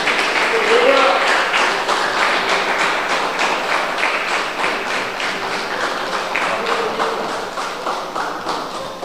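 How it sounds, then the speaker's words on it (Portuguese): A church congregation applauds in a long, steady wash of clapping that stays fairly loud throughout, with voices mixed in under it. "Você pode aplaudir o Senhor por isso?"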